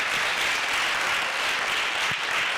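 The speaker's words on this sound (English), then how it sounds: "I need a larger round of applause than that" A round of applause from attendees at a children's summit in Kenya, a dense, steady roar of clapping that holds at one level throughout.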